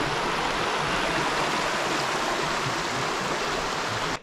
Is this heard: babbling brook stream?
yes